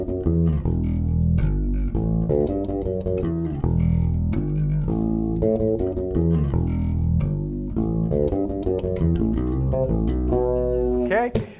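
A slow bass guitar riff, with ghost notes picked by the fingers, plays alone for about twelve seconds, steady and loud, each note thumping low with a rhythmic phrase structure.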